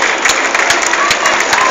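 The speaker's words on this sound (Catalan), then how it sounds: "vinga, aplaudiment per aquest home" Crowd applause at the finish line of a cycling race in Banyoles as a rider arrives, a brief patter of clapping in the open air under an announcer's talk.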